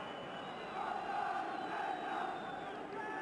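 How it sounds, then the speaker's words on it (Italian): Vicenza football supporters chant in a stadium during a Serie B match against Padova, a steady, distant roar of massed voices that swells slightly midway and holds without a break. "Si fanno sentire i tifosi del Vicenza"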